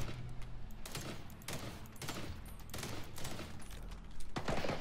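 Rapid bursts of video game gunfire crackle at a moderate level, several sharp volleys and fusillades repeating over a few seconds in an alien-shooting game, with no voices over them.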